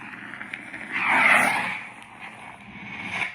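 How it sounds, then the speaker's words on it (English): A swelling, hissing whoosh of a lightsaber flame-blade effect from a saber staff's sound font rises to a crackling peak and fades, followed by a softer hum and a second flare. "This is the real flame blade from the FET 263 library."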